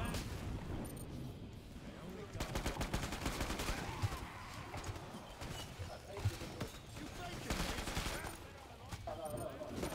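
Heavy gunfire rattles through a Killing Floor 2 match on a manor map, with dense, sustained volleys and rapid bursts and louder stretches, and voices faintly mixed underneath.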